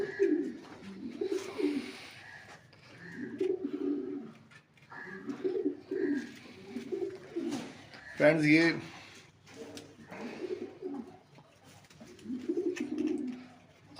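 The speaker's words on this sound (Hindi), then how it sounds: "आपके सामने ये मेरे कबूतर हैं" Pigeons, including a Danish breed, coo in a low rhythmic rumble inside a home bird house, repeating every second or two. Someone speaks briefly over them and a sharper flutter or call rises midway.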